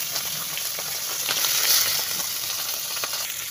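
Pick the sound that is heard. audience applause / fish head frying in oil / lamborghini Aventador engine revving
fish head frying in oil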